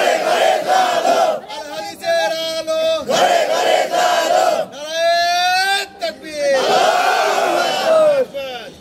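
A crowd gathered at an Eid religious sermon in Bangladesh shouts the takbir in unison, repeated loud chanted bursts from many voices separated by brief pauses, with a preacher's voice leading between them.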